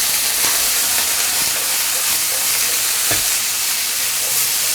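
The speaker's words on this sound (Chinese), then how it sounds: "用大火给它翻炒一下" Corn and carrots, blanched beforehand, stir-fry over high heat in a wok with a continuous sizzle, broken by occasional scraping clicks from the stirring.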